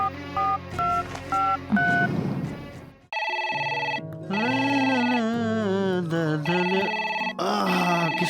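An incoming call sounds on a telephone as a sequence of short beeping tones, then a melodic electronic ringtone that plays on steadily and loudly nearby.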